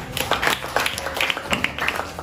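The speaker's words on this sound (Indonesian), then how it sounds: "Ya, betul, tepuk tangan." Students in a classroom clap their hands together in a quick, scattered round of applause, with many overlapping claps of fairly even loudness filling the short burst.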